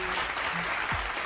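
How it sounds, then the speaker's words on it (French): Steady applause from a crowd, continuous and moderately loud throughout the short moment. "s'il vous plaît, des applaudissements."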